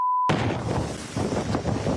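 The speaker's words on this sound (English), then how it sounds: "Pretty windy!" Strong gusting wind batters a Bay of Islands home during a storm, a loud continuous roar with surging gusts that rise and fall after a brief tone at the start.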